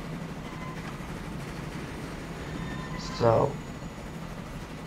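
A steam locomotive running along the track in the video game Transport Fever 2 makes a steady, low rumbling drone under a man's speech, with a brief louder burst near the end.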